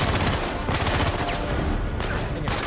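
Dense enemy gunfire in Uncharted 4, loud continuous volleys of overlapping shots and impacts filling the whole stretch without pause.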